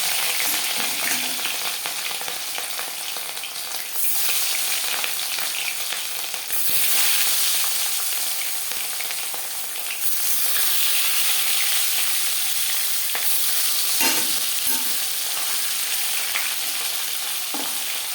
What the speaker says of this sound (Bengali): কড়াইতে দিয়ে দিয়েছি চার চামচ রিফাইন্ড অয়েল